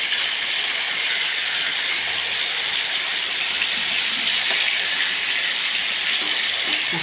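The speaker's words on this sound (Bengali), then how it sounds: "মাছটা ভেজে নিয়ে তুলছি" Hilsa fish fries in a pan, giving a steady, dense sizzling hiss that stays loud and even throughout, with a few sharper crackles near the end.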